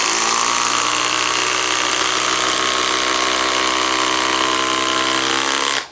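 A Makita XGT cordless driver runs steadily for about six seconds driving a fastener, a loud, constant high-pitched motor whine with a tonal squeal, cutting off abruptly at the end.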